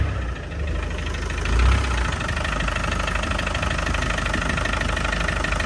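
A Land Rover Defender 90 diesel idles just after starting, a steady, close, rough low rumble with a faint knocking character and one brief swell early on, with no one talking.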